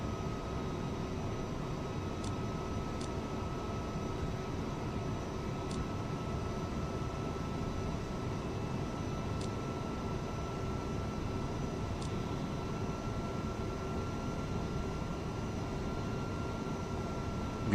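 An Airbus A300F4-200 freighter in cruise in the Prepar3D flight simulator, giving a continuous, even engine drone with a faint steady whine and a few soft clicks, with no talking.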